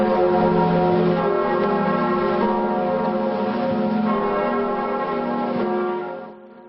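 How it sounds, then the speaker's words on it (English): Church bells of Notre Dame in Paris ring out at noon on a day of mourning, a loud, sustained peal of overlapping strokes that fades away at the end. "the solemn sound of bells rang out at Notre Dame"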